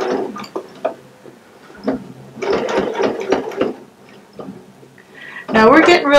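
A sewing machine stitches binding onto a holiday table runner, giving quick bursts of mechanical clicking and whirring between pauses, close and moderately loud, with someone talking briefly at points.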